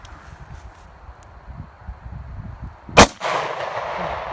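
A single sharp gunshot cracks out at an outdoor shooting range in the bayou, loud and close, after a stretch of quiet rustling, with a lingering echo afterward.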